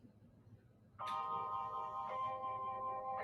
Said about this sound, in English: can they listen to a few ringtones, on the Light Phone 3?